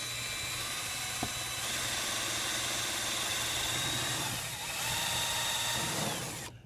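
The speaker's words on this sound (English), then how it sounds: "I don't recommend you doing this if you're not familiar with drilling holes in your walls" A power drill whines steadily as it bores through a garage wall, its motor pitch shifting slightly midway before cutting off near the end.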